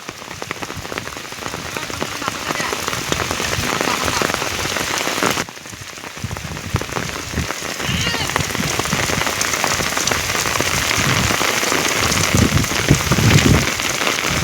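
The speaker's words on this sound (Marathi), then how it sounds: "तर इथं पाऊस आता बेकार झालेला आहे." Heavy rain pours down outdoors during a monsoon downpour, a dense, loud, steady hiss of drops striking the ground and water that dips briefly midway before resuming at full strength.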